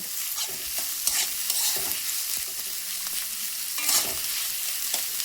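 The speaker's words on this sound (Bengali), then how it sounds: "পেঁয়াজগুলো একটু লাল লাল করে ভেজে নেব" Onions frying in a pan over medium-low heat until reddish-brown, for biryani, giving a steady, dense sizzle throughout with occasional louder stirring knocks and scrapes.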